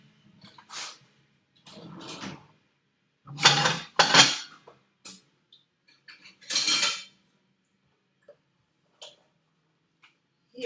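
Kitchen sounds while preparing oatmeal: a bowl and cutlery clink and clatter in several short, close bursts separated by quiet gaps.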